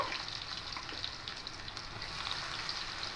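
Garlic, ginger, cumin and dried red chilies sizzle in hot oil as a tempering for Bengali dal fry, a steady close crackle and spatter with no talking.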